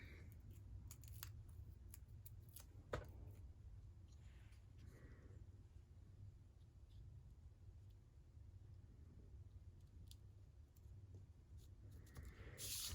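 Scissors snip through paper while trimming pieces for a handmade Christmas card, a few faint, scattered cuts over a steady low room hum with one sharper snip standing out.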